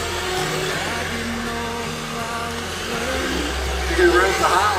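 Remote control cars racing on a raceway, with whining motors rising and falling as the cars pass, heard under loud excited voices and crowd chatter.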